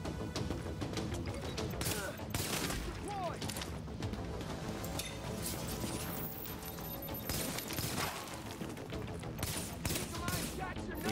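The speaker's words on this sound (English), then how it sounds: "let's go in for a couple quick shots" Gunfire in The Division on hard difficulty, with repeated sharp shots scattered through a dense, busy game mix of effects and music.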